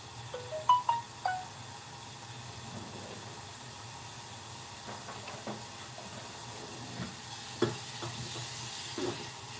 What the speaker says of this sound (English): what we want to do is just brown these bacon lardons